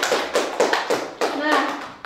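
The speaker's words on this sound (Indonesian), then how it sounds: "Tepuk tangan buat kalian semua." Students clapping their hands in a classroom at a teacher-training performance test, a handful of sharp, irregular claps close by, with a child-like voice speaking partway through.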